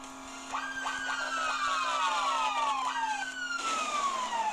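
A video game police car siren on a Volkswagen Jetta wails loudly in repeated falling sweeps, one whoop after another, then shifts to a steady high tone near the end.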